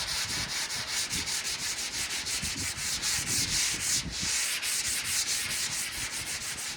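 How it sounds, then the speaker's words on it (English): Light hand sanding to scuff the old surface of a truck box trailer, steady rhythmic back-and-forth rubbing strokes, close and even, with no talking. "I'm just going to give it just a light sanding, just scuffing the surface up pretty much."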